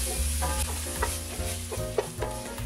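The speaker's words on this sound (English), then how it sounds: "Again, more oil, and then we're going to fry the green onions." Green onions fry in oil in a pan for pineapple shrimp fried rice, with a steady close sizzle and repeated scraping stirs of a utensil, no voices.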